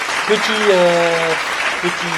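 Audience applause at a French ski-gear gathering, a steady wash of clapping lasting a couple of seconds with a voice speaking over it.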